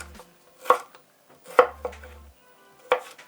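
A knife chops pork into small strips on a cutting board, giving three distinct, sharp chopping thuds spaced about a second apart, close and clear against near silence.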